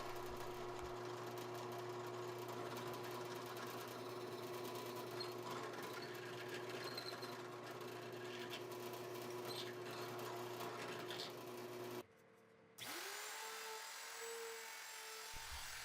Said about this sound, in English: Now it's time to drill the holes in the legs for the draw pins.